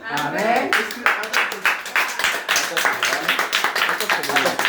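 A crowd at a church celebration claps together in a steady, rhythmic beat, loud and close, with voices speaking over the applause.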